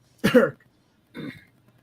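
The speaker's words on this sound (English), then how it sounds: "I just had a little cough there" Two short coughs, close and fairly loud, with a brief pause between them and quiet around them.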